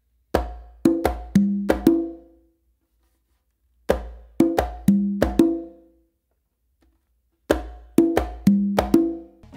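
Congas play a merengue exercise, open tones and palm slaps in three quick bursts of about five close strikes each, separated by short silences, near and clear with no talk.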